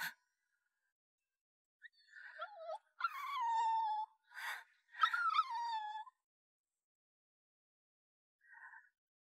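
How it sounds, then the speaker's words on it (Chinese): A small puppy whimpers softly in a quiet setting, a string of high, thin whines and yelps over several seconds, with pauses between and one faint final whimper. "小狗"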